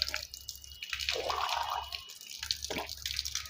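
Water pours and splashes in a steady trickle while the mouth is rinsed three times during wudu, with gurgling and dripping that rise and fall, close and soft, with no talk.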